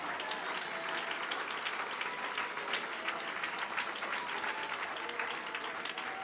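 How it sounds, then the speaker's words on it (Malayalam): A church congregation at a Malayalam Christian service breaks into sustained, dense applause, many hands clapping steadily and evenly throughout with a faint murmur of voices underneath. "കൈയടിക്കുന്ന നേരെ കൈയടിക്ക്."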